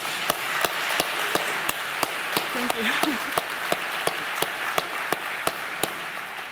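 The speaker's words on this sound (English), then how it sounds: "I think you deserve another applause just for that." Applause in a plenary session hall after a conference talk, a steady, evenly spaced run of sharp claps that carries on throughout while a voice speaks briefly over it.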